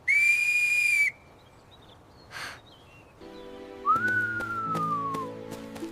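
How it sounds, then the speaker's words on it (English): A loud, shrill whistle blast sounds once, followed later by a second falling whistle tone amid faint birdlike chirps and light background noise. "I hear the whistle."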